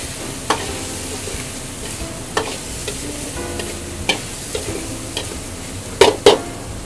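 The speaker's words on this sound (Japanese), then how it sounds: "透明になるまでしっかりと水分飛ばしながら炒めていってください" Stir-frying in oil while moisture cooks off, for chilled tantanmen with soy milk soup: a steady sizzle broken by sharp spatula scrapes and clacks against the pan at irregular intervals, including two louder hits near the end.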